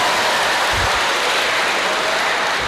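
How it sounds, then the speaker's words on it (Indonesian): Audience applause for a parish priest during a Catholic homily, a steady broadband patter of clapping throughout with no talk over it. "Tepuk tangan untuk Romo Paroki dong."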